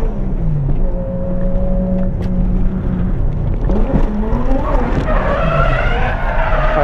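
A Toyota JZX100 Cresta drifts after a clutch kick, its tires squealing loudly in long sliding tones over a steady roaring engine that rises and falls through the run.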